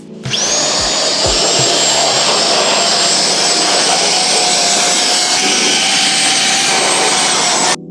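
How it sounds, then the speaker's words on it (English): A powerful air blower roaring as it blasts water out of a BMW M5 engine bay, one loud continuous high-pitched whoosh held for several seconds, with a few knocks at the start before cutting off. "So first thing I'm gonna do is blow everything out, get the majority of the big puddles and drops out of our way."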